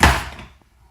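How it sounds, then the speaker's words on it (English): A drawer is pushed shut with a single solid thunk that quickly fades to quiet, close and loud. "Put it in my drawer."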